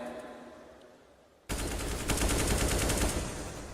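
Gunfire in the video game CS:GO during a pro match, a sudden loud burst of rapid shots that breaks in after a quieter stretch and keeps rattling densely to the end.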